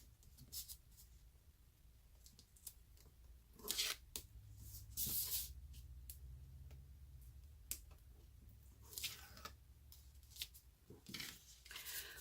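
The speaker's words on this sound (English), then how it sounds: "we are going to add some tear and tape." Tear and Tape adhesive tape being handled and torn into strips during papercraft, heard as several quiet, brief ripping and crinkling bursts scattered over faint background noise, with no talk.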